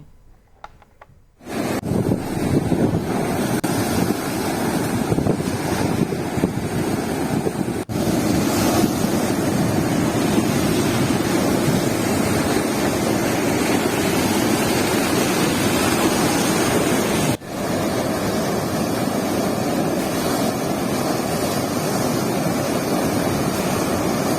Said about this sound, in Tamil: தரங்கம்பாடி கடற்கரையில் பத்து அடிக்கு மேல் ராட்சச ஆலைகள் சீறி பாய்ந்தது